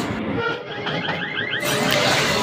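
A Kolkata Circular Railway local train at Burrabazar station rumbles and clatters loudly, with a warbling squeal or whistle-like tone over the noise and the roar swelling near the end.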